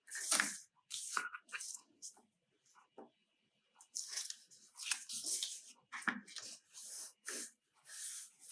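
Tape peeled from paper in a sewing-themed journal craft project, several sharp tearing rips in irregular bursts with short crinkly handling sounds between them, close and fairly loud, no talking.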